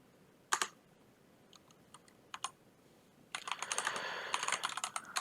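Typing on a computer keyboard while configuring Cisco network gear: a few isolated key taps, then a dense, rapid burst of close, crisp keystrokes with no talking.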